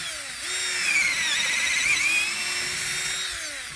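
A Black & Decker 20V lithium cordless drill bores a 5/16 hole into wood, its motor whining up in pitch and holding steady for a few seconds before winding down.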